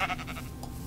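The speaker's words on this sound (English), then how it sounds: "Pink sheep." A sheep in the video game Minecraft gives a short wavering bleat at the start, followed by fainter game sounds.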